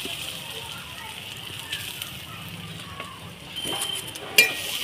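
Coconut paste frying in hot ghee in a pan for coconut laddu, a steady soft sizzle with faint scraping of a stirring spoon and one sharp clink near the end, fairly close.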